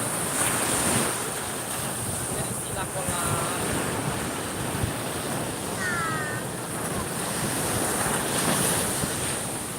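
Continuous ocean surf washes and roars along a beach shore, steady and fairly loud, with wind buffeting the microphone.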